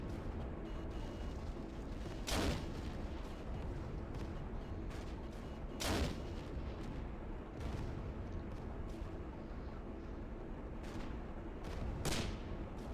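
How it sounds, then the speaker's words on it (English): Two-pounder guns firing in the WWII Online video game: sharp, widely spaced cannon reports roughly every three to four seconds, cutting through a steady background rumble of combat noise. "Those are 2-pounder guns on those."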